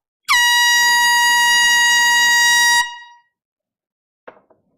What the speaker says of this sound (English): we're going to do another celebratory thank you air horn